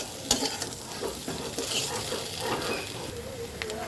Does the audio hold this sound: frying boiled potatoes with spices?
yes